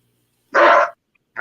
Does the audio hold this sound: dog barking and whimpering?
yes